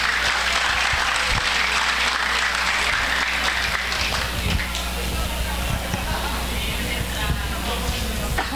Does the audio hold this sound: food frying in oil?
no